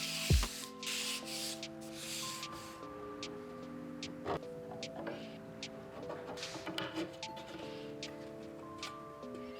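Soft rubbing and scraping of sandpaper on the wood parts of a bar cabinet, close by, with occasional light ticks and taps and faint tonal hum in the background.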